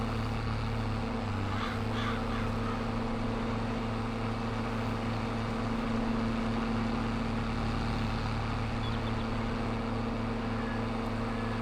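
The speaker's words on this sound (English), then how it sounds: "It's got a nice engine tone to it." A truck engine idles steadily in Farming Simulator 22 with a low, constant rumble and drone throughout, with no voices and little change in pitch.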